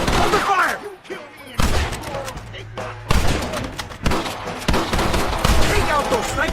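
A Red Dead Redemption shootout with dense gunfire: rapid overlapping rifle and pistol shots crack at close range in steady bursts, mixed with shouted voices.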